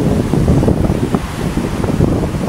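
Sea waves wash onto a beach, a constant rushing surf close by with gusty wind buffeting the microphone and no voices.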